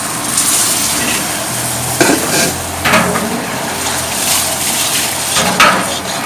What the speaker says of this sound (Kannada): ಕಾಯಿ ಫ್ರೈ ಮಾಡ್ತೀವಿ ತುಪ್ಪ ಲೈಕೆ ಪಾಡು